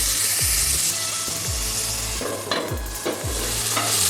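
Tomato pieces sizzle steadily in a hot pan for a bachelor-style pakoda curry, with a spoon scraping and stirring through them in several distinct sweeps over the continuous frying hiss.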